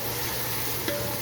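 Carrots and onions sizzle steadily in a pan as they are stirred together, with a brief scrape of the utensil near the end and no one talking.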